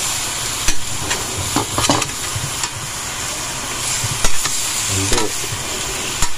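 Pork adobo sizzles and fries in a pan while a utensil scrapes and stirs it in short, irregular strokes, with a steady hiss throughout.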